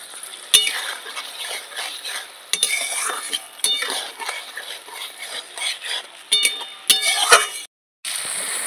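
Spice paste for an Aar fish curry stirred and fried in a pan, with a spoon scraping and clinking against the metal at close range in repeated strokes over a steady low sizzle.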